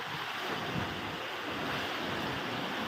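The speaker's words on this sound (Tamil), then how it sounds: "மழை ஸ்டார்ட் ஆகிடுச்சு" Rain begins with strong wind in Ghana, a dense, continuous roar of wind and rain noise buffeting the microphone without a break.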